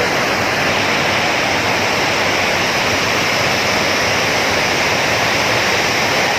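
Water pouring over a dam where people bathe, a loud, continuous broadband rush with no breaks and no voices.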